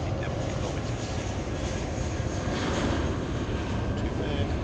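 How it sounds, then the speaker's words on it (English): British Airways Airbus A320 departing Heathrow, bound for Bucharest: a steady, broad jet engine roar that holds loud and constant throughout, heard from the airport. "This is a British Airways going out to Bucharest. It's a 320, Airbus 320."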